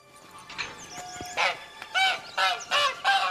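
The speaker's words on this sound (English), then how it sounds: "Hello, Mrs. Goose." A goose in the video game The Witcher 3 honks repeatedly, several loud nasal honks in an uneven series, close and clear, growing more frequent toward the end, with no talking.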